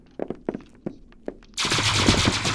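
Gunfire in a one-on-one video game duel: a few sharp, spaced single shots ring out, then a sudden loud sustained burst of rapid fire or blasting fills the rest, close and dense.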